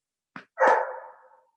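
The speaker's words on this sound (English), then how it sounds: "my dog's barking in the background" A dog barks near the microphone: one short yip, then a longer, louder bark that trails off, heard alone with no talk.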